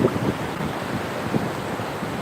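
Sea waves and wind at a beach, a steady rushing wash with gusty wind buffeting the microphone, moderately loud and without talk.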